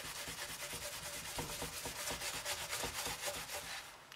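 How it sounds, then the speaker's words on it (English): An SOS steel-wool pad scrubs hard across a stained grill pan in quick back-and-forth strokes. The close, rhythmic rasping is moderately quiet and continuous, with no voices. "just my scrubbing, putting pressure with this SOS pad is helping more"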